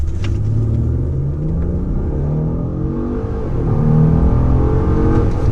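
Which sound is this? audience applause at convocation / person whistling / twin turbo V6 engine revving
twin turbo V6 engine revving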